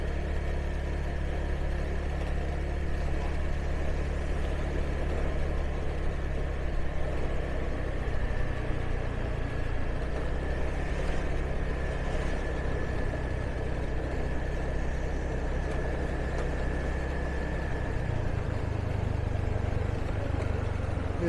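A motorbike engine hums steadily while being ridden through traffic in Binh Duong, Vietnam, with a low continuous drone and rumble, close and even in loudness throughout.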